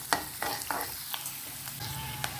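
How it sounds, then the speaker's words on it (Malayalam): Upma vegetables being stirred and fried in a pan, with a run of separate spoon scrapes and clinks over a soft, steady sizzle, close by and fairly quiet. "ഇനി നല്ലതുപോലെ ഇളക്കി യോജിപ്പിക്കണം."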